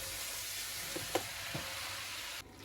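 Eggplant fries in olive oil in a pan, giving a quiet, even sizzle with a few soft stirring knocks and scrapes before the sound drops away at the end.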